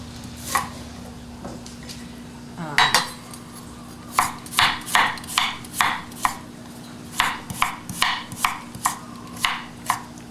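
Ginger with its skin left on being chopped on a cutting board, a run of about fifteen crisp, close knife strikes in an irregular then steady rhythm, with no talking.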